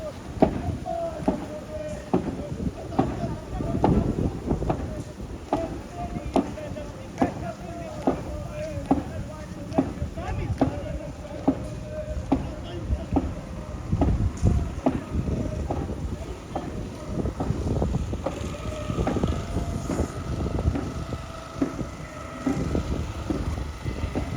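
A boat moves slowly along a river near Kidangara toward Ramankari, a steady low rumble with rhythmic thumps and wind buffeting the microphone throughout, while people talk nearby.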